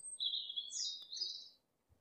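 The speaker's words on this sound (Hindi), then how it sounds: "ये है मैकपाई। मैकपाई को हिंदी में नीलकंठ पक्षी कहते हैं" A magpie gives a single drawn-out, high call with a slight rising inflection, clear and alone against a quiet background that ends in near silence.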